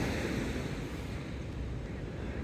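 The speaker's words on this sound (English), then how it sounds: "So these waves are coming right up here, like they're high from the ocean." Storm surf at Wamberal surging high up the beach toward clifftop beachfront houses, a continuous loud roar of breaking waves mixed with gusting wind buffeting the microphone, no pauses.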